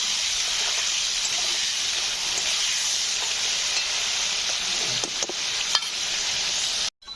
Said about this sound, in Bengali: চলো আলুগুলোকে আমি লাল লাল করে ভেজে নিই।